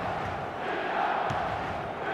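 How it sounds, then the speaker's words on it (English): Stadium crowd noise in the eFootball video game, a steady broadband roar of massed fans calling and chanting, continuous and fairly loud throughout with no commentary over it. "The crowd are calling for this to be put to bed."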